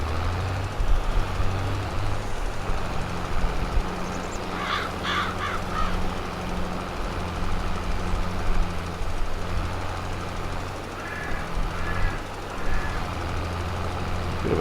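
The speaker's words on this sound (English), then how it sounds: "this tractor doesn't reverse real fast" A farm tractor creeps backward at about 3 mph, its engine a steady low drone that runs throughout, while crows caw in short bursts in the background.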